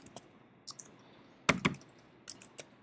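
Sparse keyboard typing while entering code in Unity for a game animation script: a few isolated key clicks, then a tight burst of strokes in the middle and a couple more taps near the end, close and crisp in a quiet room.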